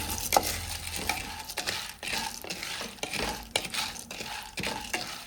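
Pasta roasting with cloves and cashews in a pan, a soft sizzle under repeated scraping and stirring strokes of a spoon against the pan, close and moderate in loudness.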